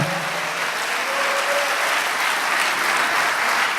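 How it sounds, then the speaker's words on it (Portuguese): A church congregation applauds during a special evening service, a dense, steady wash of many hands clapping together at a fairly close, even level throughout. "Quem é detentor da bênção, aplauda Jesus comigo nesta noite especial"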